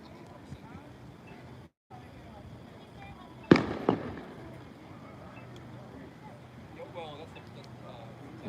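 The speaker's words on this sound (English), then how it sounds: "Fireworks." Fireworks go off in the distance near a San Clemente DUI checkpoint. A sharp bang sounds partway through, then a second crack follows soon after. Fainter pops come later, and people talk in the background throughout.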